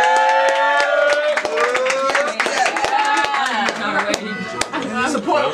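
A live battle rap crowd makes noise, with dense claps and cheering voices swelling loudly and continuously throughout.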